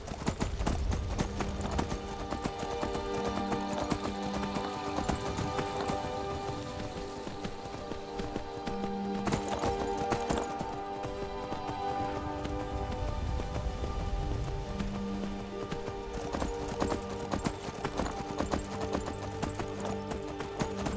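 Horse hooves clip-clop steadily in Skyrim, a continuous even rhythm of hoofbeats under rain and game music, heard for the whole stretch.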